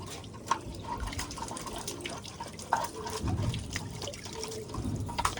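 Running water rinses a plastic pigeon feeding container in a sink, a steady close trickle and splash with a few sharper drips and knocks throughout.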